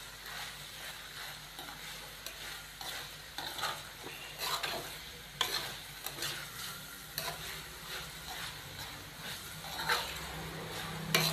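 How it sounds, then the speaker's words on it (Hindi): Vegetables for chicken fried rice, seasoned with sugar and salt, sizzle in a pan while being stirred. The frying hiss is soft and steady, and a utensil scrapes and taps against the pan at irregular intervals. No one speaks. "1 से 2 मिनट हम इसको फ्राई कर लेंगे ताकि जो चीनी और नमक शामिल किया है वो अच्छे तरीके से सब्जियों के अंदर रस जाए"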